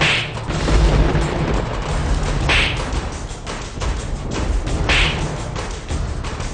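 A dramatic face-slap sound effect from a Hindi TV serial: three bright, whip-like cracks with whooshing swells, riding over a dense, loud booming rumble with no voices.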